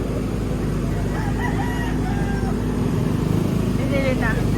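A rooster crows a few times at a busy chicken market in Lipa, Batangas, its calls moderately distant beneath nearby conversation and a constant hum of traffic and crowd noise.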